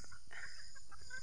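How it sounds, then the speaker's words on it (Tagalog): Native chickens on a farm clucking softly in a brief moment, a couple of short calls against steady outdoor background noise. "yung mga alaga nating manok ay namasyal na dito sa ilalim ng kanyugan"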